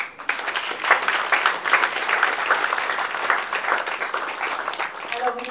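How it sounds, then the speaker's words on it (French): Applause from an audience welcoming the Italian artist Mauro Modin, a dense run of many hands clapping that carries steadily for several seconds before it begins to thin at the end. "Je vous remercie de l'applaudir."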